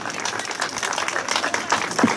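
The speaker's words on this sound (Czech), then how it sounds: "Takže ten největší potlesk našim nejmenším." Applause from a school audience at a family-day event, a steady wash of many hands clapping with a few voices mixed in, moderately loud and continuous.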